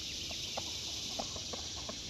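Hens cluck softly and sporadically in a backyard summer garden, faint and somewhat distant over steady outdoor background noise.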